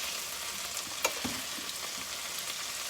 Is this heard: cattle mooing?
no